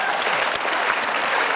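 Studio audience clapping on an Indonesian talk show, a loud, dense, even burst of applause heard up close with no voices over it.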